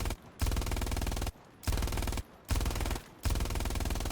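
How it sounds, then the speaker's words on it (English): Machine gun fire in the WWII shooter Hell Let Loose, loud sustained automatic bursts broken by short pauses, four bursts in quick succession with no talking. "let's just keep unleashing some rounds on it."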